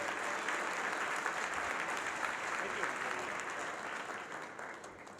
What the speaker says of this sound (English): I want her to hear the applause nice and loud